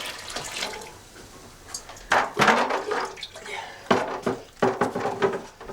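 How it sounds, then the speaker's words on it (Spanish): Water is poured into bread dough being mixed by hand for traditional artisan bread, a running splash that starts faintly and comes in louder bursts near the microphone. "Ahora voy a echar el agua,"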